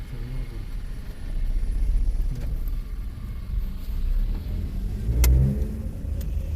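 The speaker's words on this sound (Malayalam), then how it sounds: "വണ്ടി മുന്നോട്ടെടുക്കുക" A car on a driving test is put in first gear and pulls away, its engine a steady low rumble that rises briefly as it moves off, fairly close and without talk.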